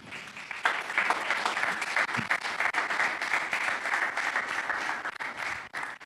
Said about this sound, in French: On nous applaudit, s'il vous plaît.